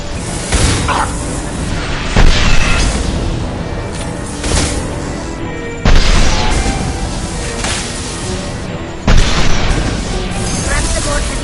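Heavy weapon blasts in Mass Effect 2, four big booming explosions spaced a few seconds apart, each a sharp loud impact trailing into a rumbling wash of combat noise, with speech underneath.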